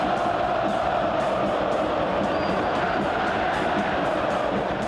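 Football crowd roaring inside a stadium during a match between São Paulo and Portuguesa, a dense, loud, unbroken wall of cheering and noise.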